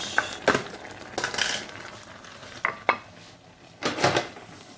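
A spoon knocks and scrapes in a wok as crème fraîche goes into pasta, giving a handful of sharp metallic clinks spaced irregularly between quieter stirring, close up with no talk.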